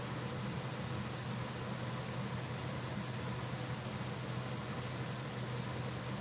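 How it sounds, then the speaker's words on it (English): A home heater kicks on, running from the same unit that serves as the air conditioner, now in heat mode; it gives a steady, even broadband whoosh with a low hum, constant and fairly loud throughout, with no talking. "And you're hearing my heater cycle on."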